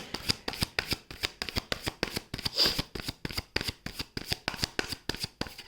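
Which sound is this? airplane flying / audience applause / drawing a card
drawing a card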